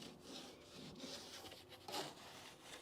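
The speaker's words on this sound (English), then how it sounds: "I'm separating the flange with this small chisel" A small chisel works apart a seam-sealed pinch-weld flange on a car body, giving faint, close scraping and rubbing strokes of metal on metal and rubbery sealer.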